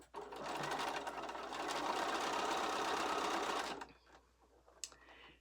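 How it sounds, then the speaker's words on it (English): A sewing machine stitches a quarter-inch seam on a mystery quilt, running steadily at close range for about four seconds and then stopping, leaving a faint clatter of handling afterward. "So you're going to stitch down that side, a 1/4 inch seam allowance"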